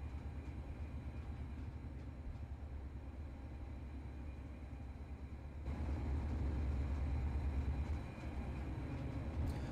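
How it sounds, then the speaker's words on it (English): A German class 644 diesel multiple unit from Trainz Simulator 3 rumbles along with a low, continuous engine drone, heard faintly and growing somewhat louder partway through, with no talking. "I'll even turn the volume up just so you guys can actually hear this train better"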